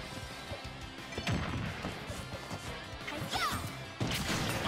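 Forward smash hits crack out in a Super Smash Bros. grand final match, with a few sharp impact thwacks and whooshes ringing over the steady, busy game and crowd background.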